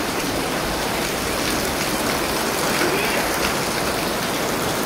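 Steady heavy rain and rushing water close by, leaking and dripping into a house, a dense continuous hiss and patter with no pauses.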